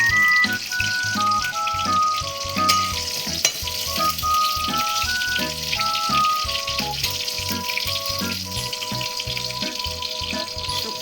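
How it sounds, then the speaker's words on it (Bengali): Lentil dumplings (bori) fry in hot oil for a Bengali shukto, with a steady sizzle and crackle running throughout. Melodic background music plays over the frying, and no one speaks. "বড়িটা আমি ভালো করে ভেজে নিই।"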